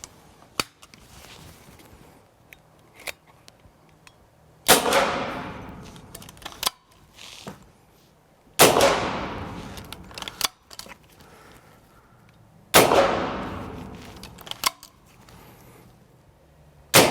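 AirForce Texan big bore air rifle firing round balls, three loud sharp reports roughly four seconds apart, each with a decaying tail, amid small clicks of handling between shots.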